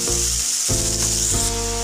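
Washed cabbage drops into hot spices in a pan, setting off a loud, steady sizzle with a couple of sharp bursts as more goes in; no voices.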